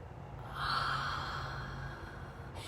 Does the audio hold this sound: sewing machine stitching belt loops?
no